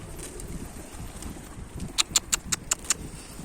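About seven quick, bright jingles of two small bells on a pigeon's legs in a rapid series, ringing clearly over faint outdoor background noise.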